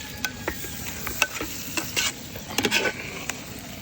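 Mussel meat is stirred into a sizzling masala for a mussel biryani, with close, irregular scrapes and clinks of a spoon against the pan over a steady frying hiss and no talking.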